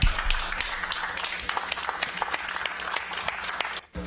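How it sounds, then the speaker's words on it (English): Applause in a space mission control room after a lunar lander touches down on the Moon, dense claps filling the whole stretch at steady loudness before cutting off near the end. "One guy clapped."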